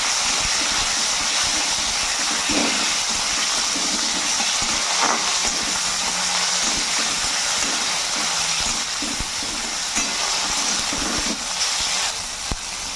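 Chopped ginger and a tomato fry in a pan of oil with a dense, steady hiss and sizzle throughout, close and even, with no talking.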